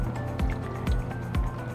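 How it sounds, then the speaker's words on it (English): Water poured into a seed-starting dome tray with sponges in the cells, a few gurgling splashes and liquid sloshes in short bursts, close up and moderately loud. "So now I'm going to put some water"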